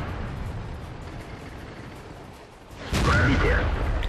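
Tank cannon fire in the World of Tanks game sounds over a steady rumbling battle backdrop, with a loud heavy blast near the end that stays sustained and booming.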